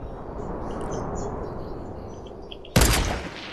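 A single sudden, loud shot in the video game Fortnite cuts through quiet outdoor ambience with faint bird chirps, and its echo lingers briefly afterward.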